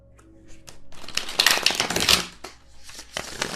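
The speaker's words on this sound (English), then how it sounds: "Do another shuffle real quick." Tarot cards being shuffled by hand, a quick ruffling flurry of papery riffles and taps, close and fairly quiet, building to a dense burst in the middle before trailing off.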